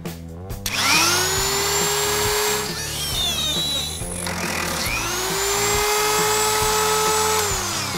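A power drill bores a hole through a brass pendant on a workbench, its motor whining steadily at close range in two sustained runs with a brief dip in between and no talk over it.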